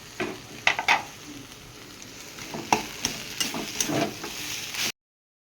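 Fried potatoes and a fish head are stirred into rice cooking in a pot, with sharp spoon scrapes and knocks over a low sizzle before the sound cuts out abruptly.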